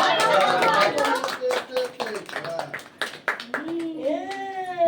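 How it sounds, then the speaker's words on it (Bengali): Clapping at a family birthday celebration, with sharp hand claps scattered among lively talk and a voice, followed by someone starting to sing near the end. "হাততালি দাও সবাই, হাততালি দাও।"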